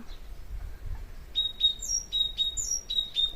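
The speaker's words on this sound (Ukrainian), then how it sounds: "Пташка співає так голосно, дзвінко, дзвінко." A small bird sings clear, high, ringing chirps in a quick repeating pattern, fairly close, over a quiet low background hum.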